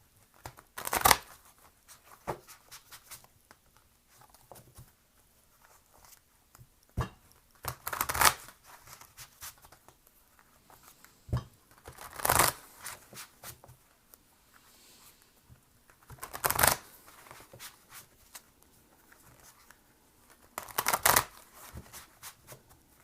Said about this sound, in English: let's go on and shuffle some cards for the general reading